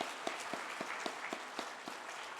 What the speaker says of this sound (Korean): 우리 한 번 더 하나님께 영광의 박수 올려드리겠습니다